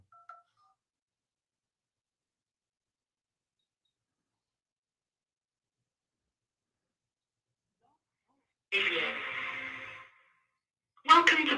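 A telephone line being tested with a short burst of dialing tones, then another brief burst after a long silence; a couple of faint beeps open the clip, and the tones are loud and close.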